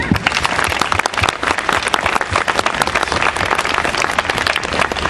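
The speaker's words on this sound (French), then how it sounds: "Donc je vous dirais que vous applaudissez Monsieur Bernard Dubot." Vigorous crowd applause at a Paris welcome event held by the Tibetan community, a thick continuous wash of many hands clapping, loud and steady from start to finish.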